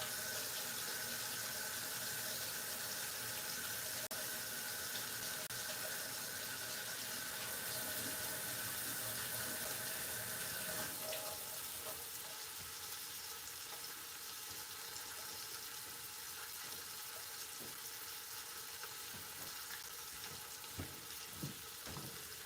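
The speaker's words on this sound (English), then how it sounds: "I'm gonna go wash my hands." Tap water runs steadily into a sink during handwashing in a home kitchen, a continuous loud hiss and splash that shifts in tone partway through as the flow changes.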